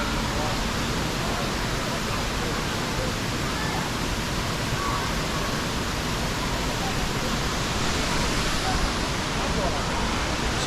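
A waterfall pours steadily into a swimming pool at the base of a huge cliff, with the river running on below, producing a loud, unbroken broadband roar that holds constant from start to finish.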